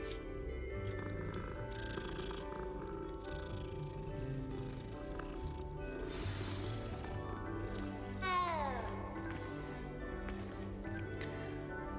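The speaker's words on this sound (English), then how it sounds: "let's pet the kitty" A cat purrs while being petted in Hogwarts Legacy, a soft continuous rumbling purr heard fairly faintly beneath game music and ambience, with a brief chiming sweep near the end.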